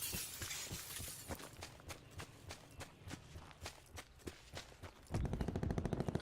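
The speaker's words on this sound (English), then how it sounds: "I heard gunshots towards firing range" Rapid, sharp gunshots crack in an irregular volley over Call of Duty Black Ops 4 background noise, followed by a louder burst of sustained automatic fire at the end.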